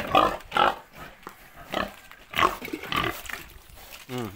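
Large White and Duroc pigs on a farm grunt in repeated short bursts at close range, loud and irregular, with a brief higher squeal near the end.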